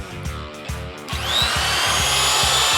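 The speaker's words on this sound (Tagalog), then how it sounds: "I-on na natin ngayon ang ating electric trimmer." An electric wood trimmer with a start button switches on after a moment of low idle hum, its motor spinning up into a loud, steady high whine with a rough grinding edge that runs on without pause.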